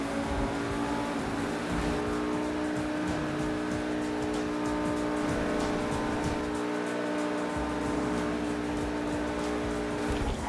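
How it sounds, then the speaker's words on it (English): The Pegassi Zorruso supercar in GTA V roars along a curving road, its engine and exhaust droning loud and continuous with shifting revs and no voices over it. "you can really take in that motor. That exhaust sound."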